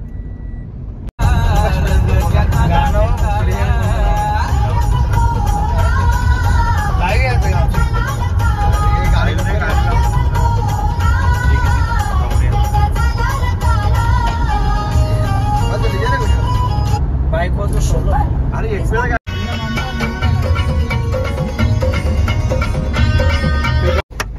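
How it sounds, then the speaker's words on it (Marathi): A car driving on the road in India on the way to Ekvira during a palanquin procession, engine and road noise running steadily from inside the vehicle under loud music and chatter from passengers. "पुढे बसले शुभम आणि ड्रायव्हिंग करतोय भावेश भोईर"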